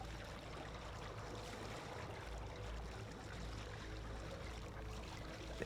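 Wading through water in the game The Outer Worlds, in a flooded facility with luminescent water: a continuous soft sloshing and swishing of water, fairly faint and steady, with no talk.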